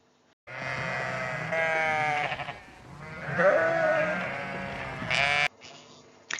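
Sheep bleat loudly and close by in long, wavering cries, several calls overlapping with a short pause between bursts, on a farm where a lorry carries livestock.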